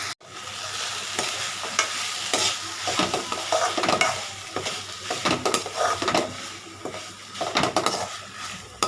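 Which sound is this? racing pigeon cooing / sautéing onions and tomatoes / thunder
sautéing onions and tomatoes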